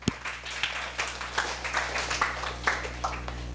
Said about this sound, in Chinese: 让我们掌声欢迎她。